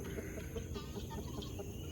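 Chickens at their roost cluck faintly and intermittently beneath a steady, hissy background, the soft calls coming from a short distance.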